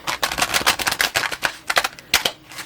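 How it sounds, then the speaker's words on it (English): Tarot cards are shuffled close up in a quiet ASMR setting, giving a crisp run of rapid papery clicks and riffles in uneven bursts with brief pauses, and no talking. "I've been shuffling these cards very thoroughly"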